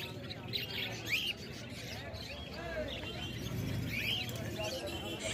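Small budgerigars chirp and twitter in cages at a busy bird market, quick bright calls popping up now and then over a low crowd murmur and distant voices.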